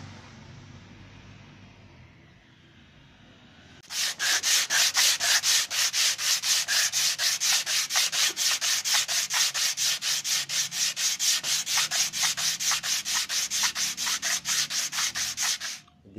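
A wooden wall cupboard made of jackfruit, teak and sal is hand-sanded before polishing, giving a loud, close, fast and regular back-and-forth rasping stroke after a quiet start.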